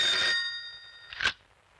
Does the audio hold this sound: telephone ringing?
yes